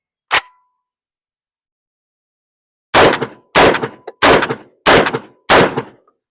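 A Tokarev TAR12 semi-auto shotgun firing 2 3/4 inch 8 shot dove loads: one loud blast, a pause of over two seconds, then five sharp reports in quick, steady succession, each with a short ringing tail.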